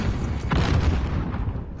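Cluster strike bombs landing in a Call of Duty match, a continuous low rumbling roll of blasts that swells near the middle and then fades, heavy and close throughout.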